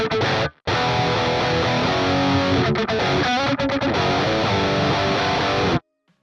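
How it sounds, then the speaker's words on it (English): Heavy, saturated distorted electric guitar rhythm playing through the Archetype: Plini amplifier 3 with full effects, tight and sustained, loud and continuous for about five seconds with a brief gap near the start and an abrupt stop. "I used amplifier 3 for a heavy, saturated rhythm sound with tons of sustain and a nice amount of tightness as well"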